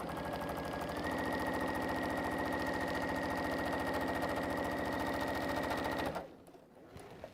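A sewing machine quilts fabric for a stowaway bag, running in a steady, rapid needle chatter for about six seconds before stopping abruptly, leaving near silence with faint handling sounds.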